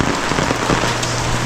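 Steady rain patters on a surface by the sea, a dense, even hiss of droplets with no voices.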